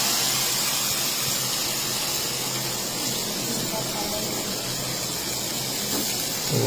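Oil on a hot stone pan for frying fish sizzles in a steady, close, loud hiss that carries on without a break.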